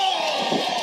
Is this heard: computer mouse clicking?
no